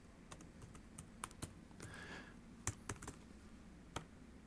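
A computer keyboard taps out notes in OneNote 2010 as scattered, light, irregular keystrokes, with a few louder clicks among them, close by and alone in a quiet room.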